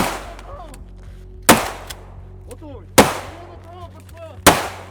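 Grenades are thrown and explode during trench assault training, heard as three loud, sharp blasts spaced evenly about every second and a half, each with a decaying tail and faint background noise between them.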